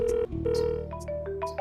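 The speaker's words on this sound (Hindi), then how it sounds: "उसी का फोन आ रहा है।" A phone rings with a melodic electronic ringtone, a quick sequence of bright tones repeating over a low background hum, close and clear.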